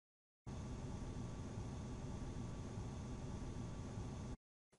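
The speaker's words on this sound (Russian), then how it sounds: "На самом деле это шумит мой компьютер." Steady broadband hiss from a running computer, a constant even wash of fan and electronic noise that holds unchanged for about four seconds and then cuts off abruptly.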